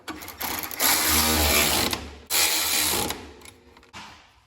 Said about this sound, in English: Now I'm gonna go ahead and tighten up the rear.